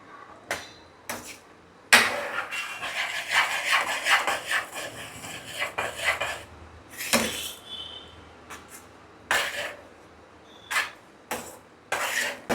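A spoon stirs cooked rice into dal khichdi in a pot, giving repeated scraping and rubbing strokes in uneven bursts, some long and some short, close by.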